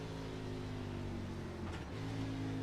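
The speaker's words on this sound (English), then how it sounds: "you can hear the downshift right here in the corner" An Xfinity Series stock car at New Hampshire downshifts entering a corner, its loud engine note dropping briefly in pitch before pulling again, heard up close as a steady roar.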